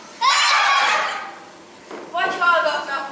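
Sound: person imitating a horse neighing on stage

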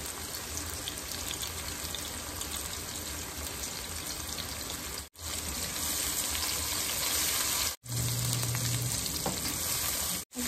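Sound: spices with ginger-garlic paste frying in oil

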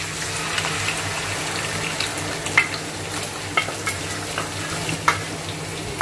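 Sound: leftover masala added to hot vegetable oil, sizzling

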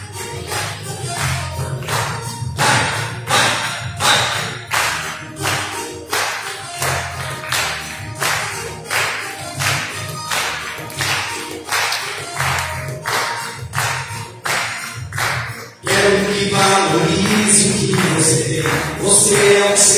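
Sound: church congregation clapping hands

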